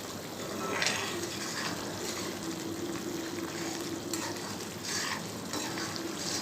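Masala with mint leaves sizzles and hisses steadily in a hot pan, with soft scraping and stirring sounds coming through now and then, close and fairly quiet.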